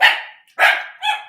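Several dogs bark in two or three sharp, loud bursts close by, with a brief pause between them and a shorter yip at the end.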